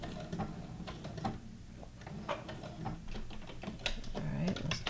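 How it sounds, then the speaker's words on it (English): A sewing machine runs steadily, stitching decorative patterns onto paper journal cards, a close rapid mechanical clatter with an even rhythm throughout. "if you have a sewing machine with decorative stitches, you use it"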